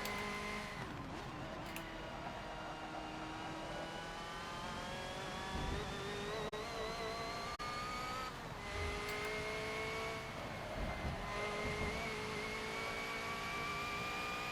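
Race car engine at Le Mans, heading under the Dunlop Bridge into the Esses: a steady high-pitched engine whine with rising gear sweeps and upshifts, held at a constant, moderately loud level.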